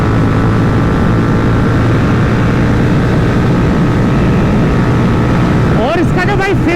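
An NS400z and a Continental GT650 motorcycle in a drag race, engines droning loud and continuous throughout, with a rising whine near the end as they pull away.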